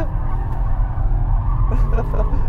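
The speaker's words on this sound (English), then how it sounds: "it will like cane up its tyres" An Audi RS6 with Quattro all-wheel drive spins and squeals its tyres while being driven hard, a loud, close, continuous roar of engine and tyre noise lasting the whole moment.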